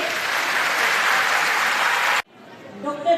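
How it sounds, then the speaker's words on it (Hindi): A loud burst of clapping from an audience in a school auditorium fills the room, then stops abruptly, followed by a quieter murmur of voices. "एक बार जोरदार ताली बजाइए"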